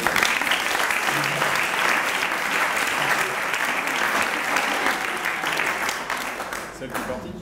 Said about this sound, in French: Donc on applaudit